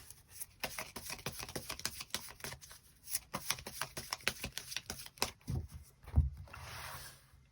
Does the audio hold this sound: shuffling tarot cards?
yes